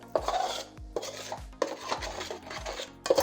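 A utensil stirs flour in a pot with repeated scraping strokes, about four rhythmic passes with clinks against the pot, close and fairly quiet, with no voices.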